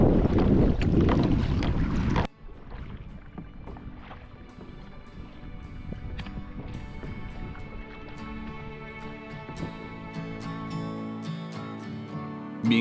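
Strong wind gusts across choppy water at North Cascades National Park in Washington state. A loud, roaring blast of wind noise comes first, then settles into a steady rushing hiss with faint splashes and knocks.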